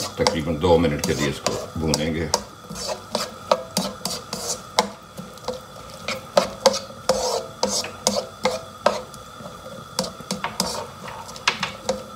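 Onions go into hot oil in a pan on medium heat for Lahori chicken and chickpeas. A sizzle comes first, then repeated scraping and stirring strokes of a spoon against the pan in an uneven rhythm, close and fairly loud.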